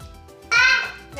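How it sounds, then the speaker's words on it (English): Kids' noisy chatter carries from the background of a home kitchen, a short babbling voice rising sharply in the middle of the moment. "Sorry about the noise in the background, that's just my kids. It's really noisy here."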